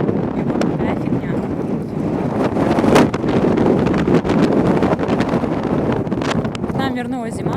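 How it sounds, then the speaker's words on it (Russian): Strong wind on a snowy Siberian spring day, loud gusty buffeting roaring against the microphone throughout, with brief sharp knocks and a faint voice near the end. "Ветер просто сумасшедший сегодня."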